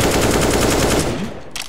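Rapid automatic gunfire in the game CS:GO, fired while the player is moving. A dense, loud burst of shots comes close together, then it stops and a faint sound follows.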